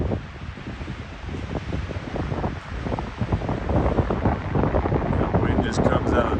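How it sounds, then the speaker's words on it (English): Strong wind gusts roar steadily through a stand of trees on a wooded lot being cleared for a house pad, shaking the branches hard in a dense rushing wash that swells louder toward the end, with scattered rustling bursts. "Wind just comes out of nowhere, hits these trees, shakes them real hard"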